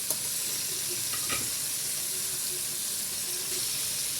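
Marinated chicken thighs frying in a pan after being flipped give a steady, even sizzle throughout, with a few soft stirring and utensil knocks near the middle.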